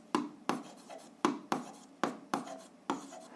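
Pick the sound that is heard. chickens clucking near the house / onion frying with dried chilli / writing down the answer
writing down the answer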